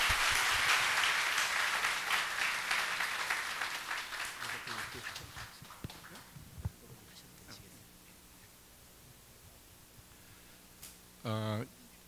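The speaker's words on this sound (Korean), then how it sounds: "우리 총장님 오셨습니다. 우리 박수로 한번 뜨겁게 환영하도록" An audience greets a university president with warm applause, a full round of clapping that is loud at first, then thins and fades away over several seconds, followed by quiet room sound and a brief voice near the end.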